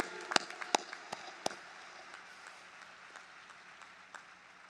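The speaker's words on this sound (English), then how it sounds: "Don't we owe them a round of applause?" Applause from a commencement ceremony crowd for guests, opening with a few sharp distinct claps that settle into a steady, fairly soft wash of clapping from many hands.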